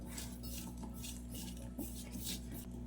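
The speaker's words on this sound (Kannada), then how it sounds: "ಖಾರದ ಪುಡಿ, ಅರಿಶಿಣ ಪುಡಿ, ಹಾಗೆಯೇ ಉಪ್ಪು, ಇದೆಲ್ಲವನ್ನು ಹಾಕಿ ಚೆನ್ನಾಗಿ ಮಿಕ್ಸ್ ಮಾಡಬೇಕೀಗ" A spoon clinks and scrapes in a bowl while mixing potatoes with chili powder, turmeric and salt, with steady light metallic taps and stirring close by and no talk.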